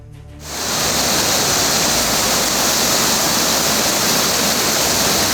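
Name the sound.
swollen Gori river rushing in Pithoragarh, Uttarakhand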